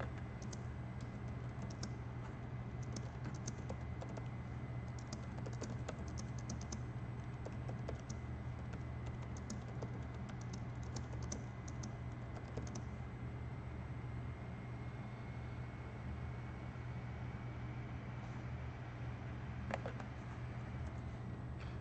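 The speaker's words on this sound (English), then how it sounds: "I'm typing a little trash talk right here" Steady clicking of keys on a computer keyboard continues for about twenty seconds, quick and irregular, close up over a constant low hum, with no talking.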